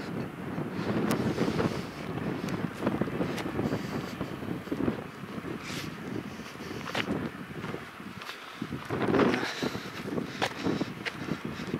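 Wind gusts outdoors near the confluence of the Uza and Nyanga rivers, buffeting the microphone in a steady, loud rumble for about twelve seconds with no voices.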